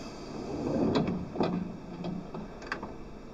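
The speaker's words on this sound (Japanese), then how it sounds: "1番線ドアが閉まります。" Commuter train doors on the Yamanote line sliding shut in a PS2 train simulator game, a few short clunks and thuds over a low station hum.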